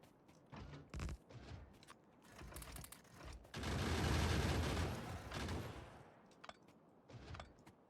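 Gun turrets firing ammo in the factory-building game Factorio, quiet scattered shots, then a dense burst of rapid automatic fire lasting a couple of seconds before thinning out.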